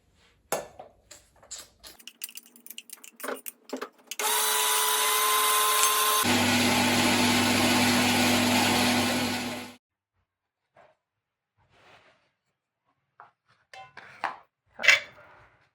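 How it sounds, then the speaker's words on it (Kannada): An electric mixer grinder whirs loudly for about five seconds while grinding raw tamarind and green chilli, its pitch shifting partway through the run, with scattered clatter and handling knocks before and after. "ಮಿಕ್ಸಿ"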